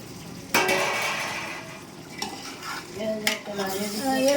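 Tiger prawn pulao is stirred in a pan, with a scraping stir followed by a steady frying sizzle and occasional light clinks of a spoon against metal.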